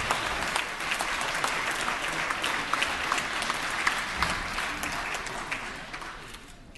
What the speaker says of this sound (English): Members, if you would please give them another warm round of applause.